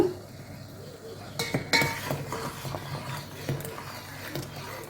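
A spoon stirring a batter of urad dal, rice and fenugreek into boiling water for ulundhu kali, with scraping and clinks against the pot over a low steady background.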